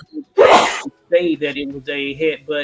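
A single loud, sharp sneeze bursts out near the mic, followed immediately by someone talking.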